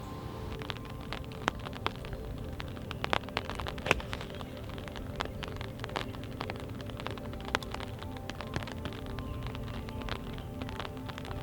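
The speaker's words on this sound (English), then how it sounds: "A little bit of rain picking up now" Rain falls steadily on a golf course, a continuous wash of hiss with scattered sharp drop taps across the whole stretch and no voices.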